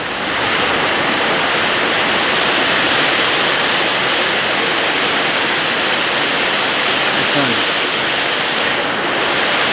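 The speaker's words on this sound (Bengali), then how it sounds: "মানে কোনো জায়গায় যাওয়া যায় না বৃষ্টির জোরে" Heavy monsoon rain pouring down in Assam, a loud dense unbroken roar of falling water that fills the whole stretch without pause.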